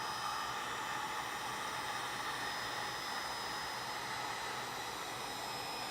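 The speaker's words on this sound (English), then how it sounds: "Come on, heat gun. This better not be bunk heat shrink." Heat gun blowing hot air to shrink heat shrink tubing during handlebar switch wiring on a vintage Honda CB350 motorcycle, a steady close airy hiss and fan whoosh with no variation.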